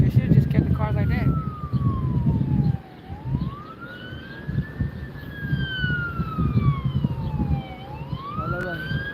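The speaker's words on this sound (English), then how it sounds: "Hear the sirens." A police siren wails in long rising and falling sweeps through busy traffic noise, loud and close, while several people talk over it.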